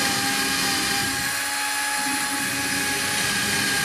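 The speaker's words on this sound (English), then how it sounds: "drill my pilot holes" A power drill whirs continuously at high speed, close up, drilling pilot holes for a hinge on a wooden beehive box, easing off briefly in the middle before spinning back up.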